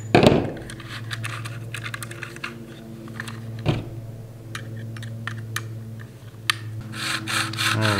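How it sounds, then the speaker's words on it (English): A screwdriver works the bar-tension adjuster on a Proyama 42.7cc 5-in-1 multi-function trimmer, giving scattered close clicks and scraping rubs over a steady low hum. "right here is where we're gonna do our adjustment as far as tightening up our bar. So let me grab the screwdriver."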